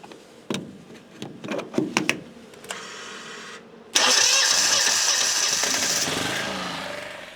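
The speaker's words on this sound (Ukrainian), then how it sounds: "ми будемо працювати від генератора" A generator engine powering field tire-service equipment starts up after a few clunks and cranking bursts, catching at once and settling into a loud, steady running drone.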